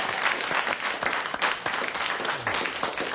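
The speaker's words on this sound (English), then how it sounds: "Can we have a round of applause or something?" Studio audience applause on a sports show, a steady dense clatter of many hands clapping close by for a few seconds without pause.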